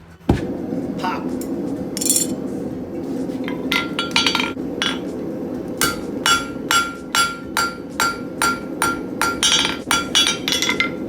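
A hammer forging a steel coat hook rings out in a run of sharp, metallic strikes, sparse at first, then settling into a steady rhythmic pounding over a low shop hum, close by.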